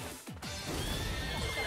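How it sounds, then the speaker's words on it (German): A horse neighs in the video game Miitopia, a short whinny heard over a dense bed of game music and effects. "Pferd? Hottehü?"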